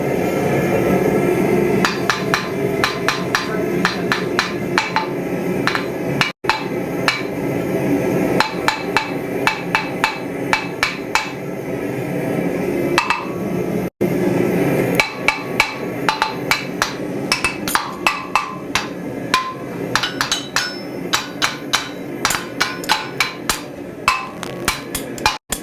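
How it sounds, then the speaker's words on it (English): A hammer strikes metal in a blacksmith workshop, a long series of sharp, ringing blows in uneven bursts with short pauses between them, over a steady background hum. "I need another hammer."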